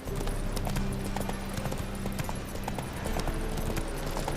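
Horse hooves trotting in The Witcher 3, a steady, fast clip-clop rhythm that runs close and loud throughout over a constant game ambience.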